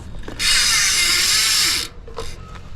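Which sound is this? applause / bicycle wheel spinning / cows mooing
bicycle wheel spinning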